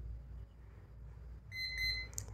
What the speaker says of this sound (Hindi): ये कुछ इस तरीके से इसमें अलार्म बजता है